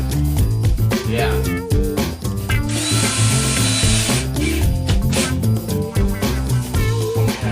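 Power drill driving screws into drywall during a sunroom repair, heard as loud close bursts of whirring and ratcheting that stop and start again and again, with a steady tonal hum underneath.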